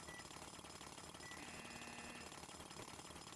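A jackhammer breaks a plate in Roblox Plates of Fate, a continuous loud rapid pounding rattle that holds steady throughout with no voices.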